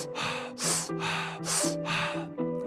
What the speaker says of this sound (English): So you're gonna purse your lips a little bit to create a little bit of a venturi, and it will look and sound like this.